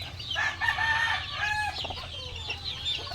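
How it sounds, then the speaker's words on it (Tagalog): Chickens and hungry young chicks cluck and cheep close by, a busy overlapping mix of short calls and higher chirps with no pause. "Gutom na naman yung ating mga alagang sisiw."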